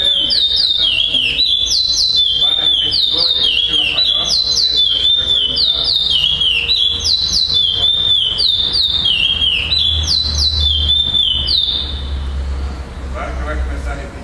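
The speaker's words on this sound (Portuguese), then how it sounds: "Quem tem passarinho cantando?" A pardo songbird sings loud, repeated chirping phrases at a bird song tournament in Florianópolis, the bright trills recurring in quick bursts close to the microphone with a low background rumble near the end.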